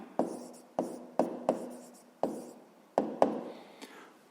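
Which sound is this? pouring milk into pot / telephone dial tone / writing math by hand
writing math by hand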